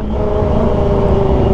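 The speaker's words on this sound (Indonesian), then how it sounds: "kalau dari segi suara, knalpot Aero ini jauh lebih gahar guys." Kawasaki ZX25R motorcycle with an Arrow Pro Race exhaust revving loud and close, a steady raspy engine drone held throughout with no talk.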